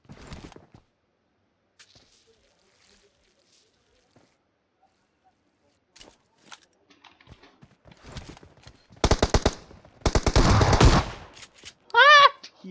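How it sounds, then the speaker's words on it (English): Shotgun fire from an S686 in the PUBG Mobile video game: sparse faint clicks early on, then a few loud, close blasts in quick succession near the end, followed by a brief excited voice. "My shotgun is OP."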